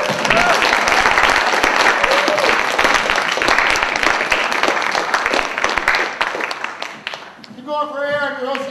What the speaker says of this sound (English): Everybody, please give a big hand for Dan Friedman.